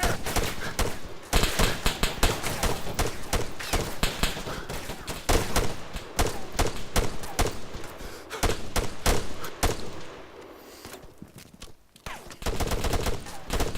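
Dense, loud video game gunfire from a squad battle, rapid overlapping bursts and volleys of shots continuing almost without pause, with a brief lull near the end before the firing resumes.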